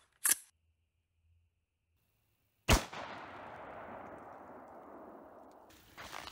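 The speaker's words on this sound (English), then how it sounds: "first up, two shots with the BCM" Two rifle shots from a BCM rifle fired at body armor outdoors, each a sharp loud crack, the first brief and the second followed by a long rumbling echo that slowly fades.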